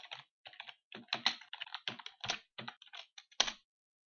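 Crisp keystrokes clatter on a computer keyboard in uneven bursts, close and clear against near silence.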